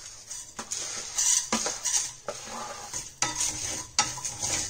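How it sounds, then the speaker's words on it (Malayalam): Cumin and other whole spices being stirred while dry-roasting in a pan for homemade masala, with repeated scraping spoon strokes and a faint sizzle, close and alone with no talk. "ജീരകം കരിഞ്ഞു പോകാതെ സൂക്ഷിക്കണം, അതുകൊണ്ട് ഇളക്കിക്കൊണ്ടിരിക്കുക"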